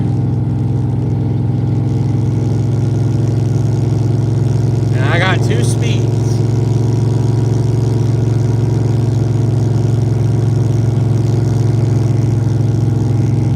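A very loud car called Brown Sugar idles with a deep, steady rumble throughout, someone talking over it and a brief whistle-like tone rising in the middle.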